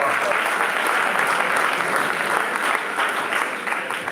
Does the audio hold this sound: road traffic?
no